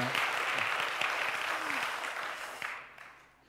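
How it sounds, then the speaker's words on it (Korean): Congregation applause during a Sunday church service, a steady, fairly close wash of many hands clapping that tapers off near the end. "우리 박수로 한번 격려하시면 좋겠습니다."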